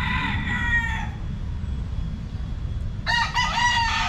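A rooster crows nearby, then crows again a couple of seconds later, over a low steady background hum.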